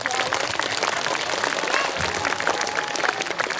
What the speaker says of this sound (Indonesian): Tepuk tangan dulu buat beliau.